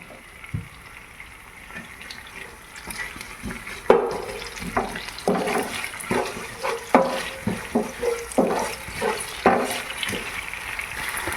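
Onions sauté on high flame in a pan for pepper curry, with salt added, giving repeated scraping stirs and clattering over a steady sizzle, close and moderately loud, without talk.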